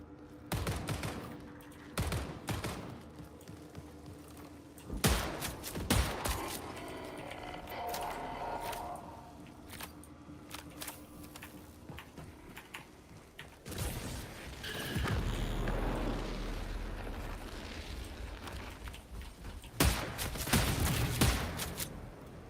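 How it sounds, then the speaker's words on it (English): Sniper and other gunfire in the sci-fi shooter Marathon, with repeated sharp shots and bursts of rapid fire over steady game noise and mechanical clatter, loud throughout the stretch. "Did I just get sniped at?"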